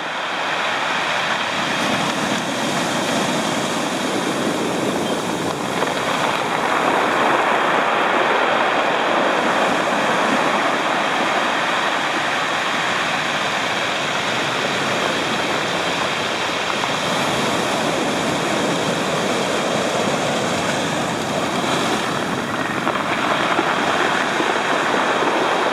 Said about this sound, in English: Listen to those rocks.